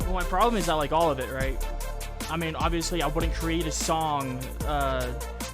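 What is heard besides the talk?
No everyday noise stands out behind the speech.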